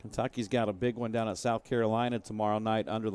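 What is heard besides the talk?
No everyday noises stand out.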